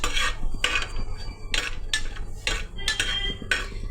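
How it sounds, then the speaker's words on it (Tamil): Whole spices stirred in hot oil in a pan for tomato biryani: a metal spoon scrapes and clinks in steady strokes about every half second, close up and with no talk. "இது நல்லா ஆட் பண்ணிவிட்டு நல்லா வறுத்துக்கலாம், பொரிய விட்டுக்கலாம்"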